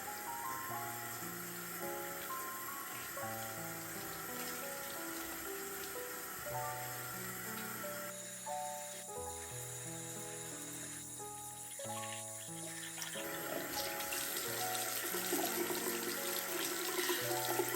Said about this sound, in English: rinse it under warm flowing water from the tap and wash out the shampoo